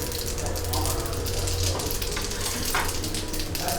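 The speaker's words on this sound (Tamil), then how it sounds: "எண்ணெய் காஞ்சிடுது. ஸோ கொஞ்சம் கடுகு, கொஞ்சமாக உளுத்தம் பருப்பு," Mustard seeds and urad dal sizzle and crackle steadily in hot oil in a home kitchen pan, a dense continuous frying hiss close by with no talk.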